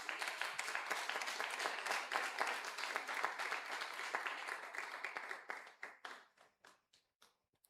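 Audience applause at a community awards ceremony: steady, moderately loud clapping from a crowd that holds for about five seconds, then thins into a few scattered, separate claps before stopping.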